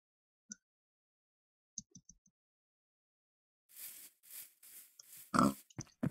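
Pigs in Minecraft, modded with Sonic-themed changes, give short scattered grunting oinks at first, followed by a denser burst of snorting squeals near the end against otherwise quiet gameplay.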